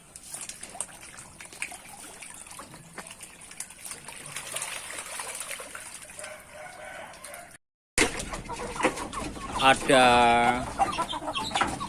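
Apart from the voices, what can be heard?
chicken clucking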